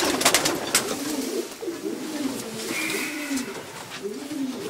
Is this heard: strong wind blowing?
no